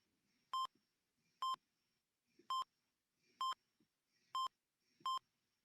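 Six sharp electronic beeps at a steady, evenly spaced rhythm, like a patient monitor, with faint quiet background noise between them.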